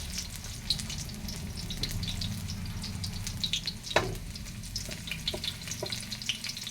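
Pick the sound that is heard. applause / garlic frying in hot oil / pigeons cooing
garlic frying in hot oil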